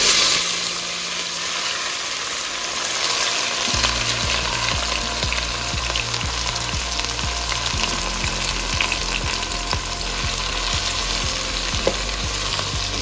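Onion and tomato hit hot oil for a mutton masala and fry in a loud, steady sizzle, with a low rhythmic scraping as the pan is stirred, close and continuous without talk.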